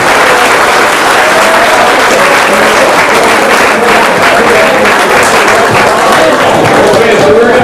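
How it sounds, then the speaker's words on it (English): A high school fall sports banquet crowd gives loud, sustained applause, dense close clapping filling the room evenly from start to finish, with faint voices mixed in. "Give him a round of applause"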